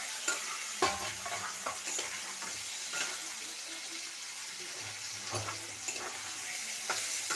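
Half-boiled potatoes and aubergine frying in oil, a faint, steady sizzle with scattered scraping and stirring clicks of a spatula against the pan.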